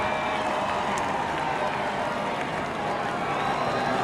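A boisterous NASCAR crowd roars without a break at a Sprint Cup night race as Jeff Gordon takes his 93rd career win in his final 2015 season. The cheering is dense, loud and steady throughout, with no clear single voices.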